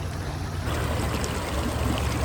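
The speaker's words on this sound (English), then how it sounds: "So the sluice seems to be running pretty well." Water rushes and gurgles through a gold prospecting sluice outdoors, a close, continuous splashing flow that grows a little fuller after the first half second.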